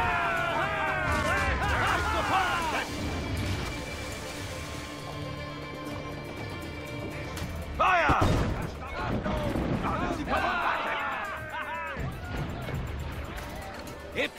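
Repeated heavy booming cannon blasts ring out during a fort assault in Assassin's Creed IV Black Flag, amid battle noise, with shouted voices and music running throughout.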